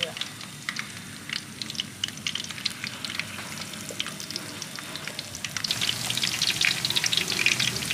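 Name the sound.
frying battered linh fish in a non-stick pan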